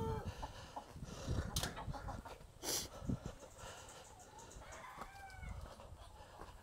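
A Rhode Island rooster crows a few times, loud and fairly close, with mini hens clucking and other farmyard fowl around it.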